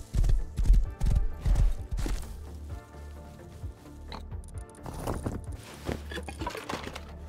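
Horse hooves clop in a quick uneven rhythm in the survival video game Rust, loud at first and then fading into a busier mix of game sounds and clatter.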